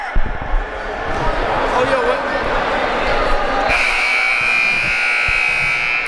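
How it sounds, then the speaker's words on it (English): At a junior varsity high school basketball tournament championship, a loud, sustained electronic buzzer sounds over gym noise and crowd murmur, droning steadily and shifting to a brighter, piercing tone partway through. "Buzzer goes"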